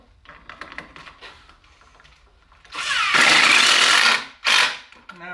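A power drill drives screws into a wooden craft table, with two loud bursts of whirring, a longer run followed by a short one, after quiet handling sounds.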